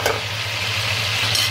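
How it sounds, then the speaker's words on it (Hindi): Garlic and ginger browning in a pan for a Bong curry, a steady soft sizzle running throughout with stirring scrapes, close and fairly loud, no voices. "हम लहसुन अदरक को अच्छी तरह से ब्राउन कर लेंगे।"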